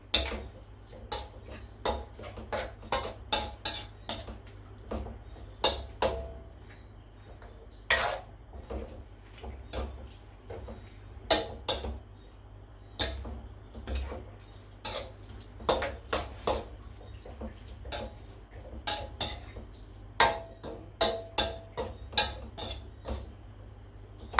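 Sun-dried pork being dry-roasted in a pan for Thai larb, heard as repeated sharp clinks and scrapes of a utensil against the pan in an irregular rhythm over a low, steady background, with no voices.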